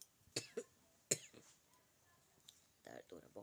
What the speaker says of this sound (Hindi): खांस रही हूँ ना।